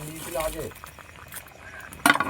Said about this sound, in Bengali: দেখুন ঝোলটা ফুটে গেছে